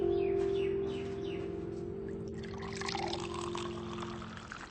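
Water is poured from a container into a drinking glass in a home, a steady pouring trickle lasting several seconds with a faint background tone and no talk.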